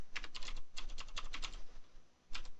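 Fast keystrokes on a computer keyboard while entering C++ code in a terminal editor, clicking in quick bursts with a short pause before a final flurry, close and clear with no talking.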